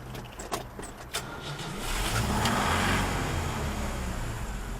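A car engine turns over and catches, settling into a steady, moderately loud idle close by after a few clicks and clunks in a workshop setting.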